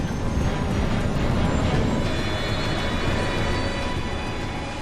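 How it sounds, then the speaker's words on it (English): A loud, steady roar of jet engines at high power, broadband and sustained throughout, like an airplane accelerating down a runway. "The crew struggles desperately to get the plane off the ground."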